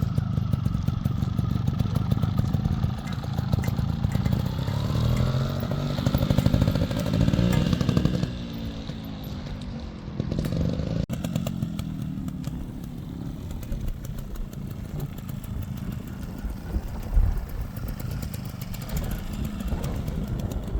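A Yamaha YZ125 two-stroke dirt bike being ridden, its buzzy engine rising and falling as the throttle changes, loud and close throughout, with a brief sharp knock near the end.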